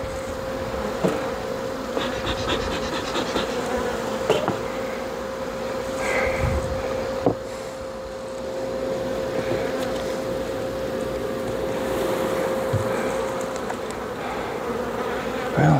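Honey bees buzz in a steady, dense drone all around during a horizontal hive inspection and mite check, with occasional knocks and handling sounds from the hive frames.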